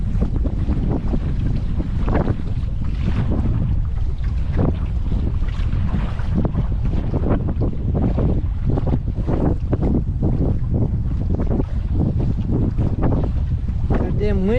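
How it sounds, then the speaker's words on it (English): Wind roars into the microphone on a boat ride at Hoover Dam, a constant loud buffeting rumble with gusty surges, a voice faintly mixed in beneath it. "If damn wind could die down"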